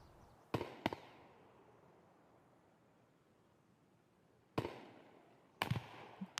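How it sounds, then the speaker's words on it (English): Shotgun blasts in an Escape from Tarkov gunfight ring out as a quick double shot, then isolated single and paired booms several seconds apart, each sharp and crackling over a quiet hiss. "That's a shotgun."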